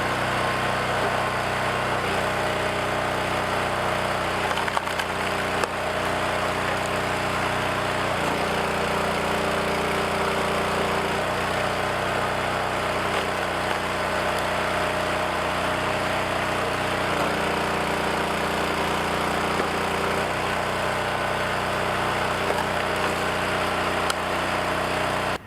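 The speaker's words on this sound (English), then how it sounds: "So let me get the splitter fired up." Small engine of a log splitter running steadily outdoors, a constant loud drone for the whole stretch, with the tone shifting lower twice as the load changes.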